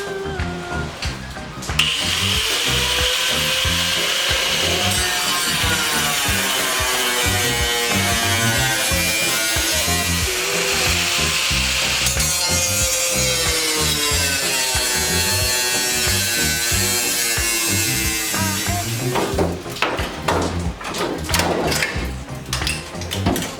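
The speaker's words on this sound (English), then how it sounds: "We're gonna cut all the webbing off and see if it clears the firewall" A power tool buzzes steadily for over twenty seconds while cutting webbing off the hood of a Nissan 240SX fitted with a JDM Integra front end, loud and close with no talk.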